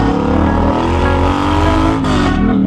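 A motorcycle with loud aftermarket exhaust pipes revs hard and close, a dense, throaty roar held steady throughout with a brief dip near the end, no talking.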